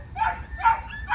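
A pit bull puppy gives three short, high yips and barks in quick succession, close and fairly loud, with no talking over them.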